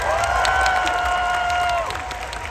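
A large crowd at a vegan camp out festival claps and cheers, a dense, sustained wash of applause with whoops and a rising tonal sweep, fading slightly near the end.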